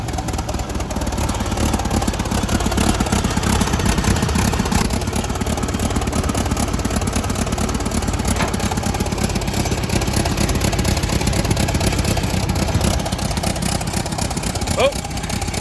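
An old abandoned White 2-44 forklift engine runs steadily up close, a rough, continuous mechanical drone with a faint high whine throughout, as the machine moves under its own power; voices talk over it.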